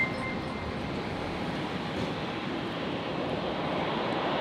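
A Qantas jet airliner arriving from Sydney produces a steady, distant engine rumble, a low even roar with a faint high whine that holds at constant level throughout.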